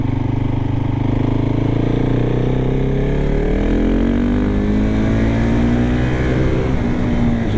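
A KTM 690 SMC R 2022 single-cylinder motorcycle accelerates on a small country road, its engine note rising steadily in pitch through the gears, loud and close throughout with no talking.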